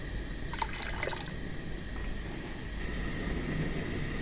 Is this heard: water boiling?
yes